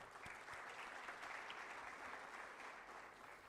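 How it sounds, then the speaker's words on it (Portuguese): Sustained applause from an audience, dense and even, heard faintly at a distance throughout. "uma salva de palmas, por favor"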